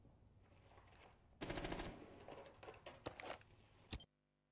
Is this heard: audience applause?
no